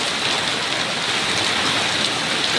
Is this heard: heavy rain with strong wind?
yes